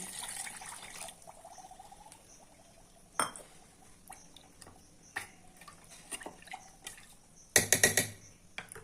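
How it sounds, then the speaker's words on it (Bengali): A bowlful of water poured into semolina for idli, with faint sloshes and soft clinks of bowl and utensils, ending in a short, louder splashing burst near the end. "আমি যে বাটিতে সুজি নিয়েছিলাম সেই বাটিরই 1 বাটি জল দিচ্ছি।"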